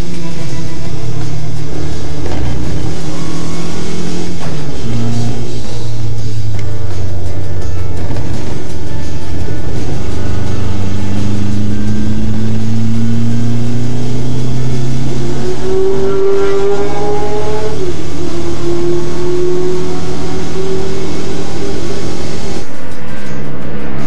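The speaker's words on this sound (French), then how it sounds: "nous nous retrouvons à bord de la Triumph TR4 de Paul Hogan" Onboard with a Triumph TR4 racing at the Le Mans Classic, its engine roaring loud and continuous, rising through the gears with repeated upshifts and steady high-revving pulls, no voices.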